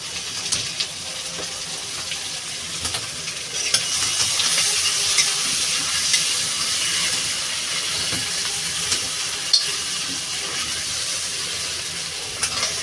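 Shrimp fries in a pan for a pumpkin curry, giving a steady, loud sizzle that swells after a few seconds and holds without pause, with no voices.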